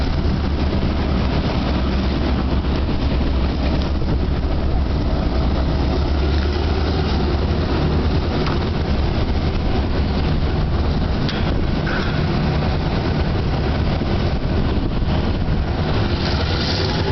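A steady, loud rumble of a train rolling past, heavy low-end roar and rattling wheels holding constant throughout.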